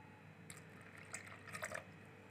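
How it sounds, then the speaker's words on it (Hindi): A small amount of water poured into wood apple pulp while making bel sharbat at home, heard as a few faint, brief drips and splashes against quiet room tone, with no talking. "मैं इसमें थोड़ा सा पानी और ऐड करूँगी"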